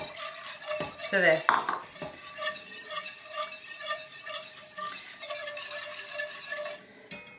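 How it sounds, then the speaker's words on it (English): Milk is whisked into a flour paste in a pan, with rhythmic metallic whisk clinks against the pan. A voice speaks briefly near the end. "So I'm slowly whisking in 3 cups of milk"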